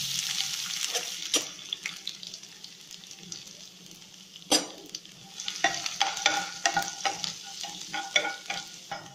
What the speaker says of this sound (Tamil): பேன்ல கொஞ்சம் எண்ணெய் விட்டுடலாம். ஒரு அரை ஸ்பூன் கடுகு, கடுகு வெடிச்சதும் கொஞ்சம் ஜீரகம்